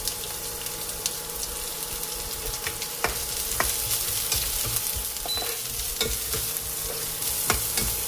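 Chopped ginger and onion added to garlic frying in oil in a pan, a constant sizzle broken by frequent sharp spatula scrapes and taps as they are stirred, close and alone without speech.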